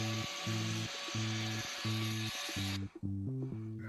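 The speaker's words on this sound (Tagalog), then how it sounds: "Medyo nagtrabaho ako gamit ang grinder na may disc para sa bato." An angle grinder fitted with a stone-cutting disc works stone during pool and bath construction, giving a loud continuous high grind with a rhythmic pulsing low drone as the disc bites and eases.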